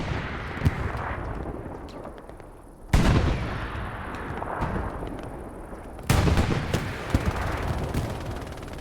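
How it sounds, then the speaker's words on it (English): Artillery rounds burst in the World War II shooter Hell Let Loose, two heavy, sudden blasts a few seconds apart, ringing out over a constant background of distant gunfire and battle noise. "Oh my god, that artillery round."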